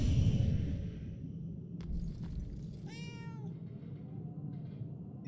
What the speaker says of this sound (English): That's the ghost cat.